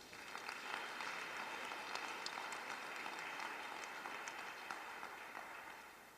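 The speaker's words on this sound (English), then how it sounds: "Can we get another round of applause," A crowd applauds steadily for several seconds, a dense patter of many hands clapping at even loudness.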